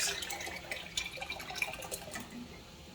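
Milk from a farm, three gallons of homogenized whole milk, poured into a big stock pot, a soft liquid trickle and splashing at close range, quiet with a few small drips and clinks.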